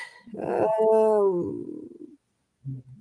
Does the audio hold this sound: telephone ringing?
no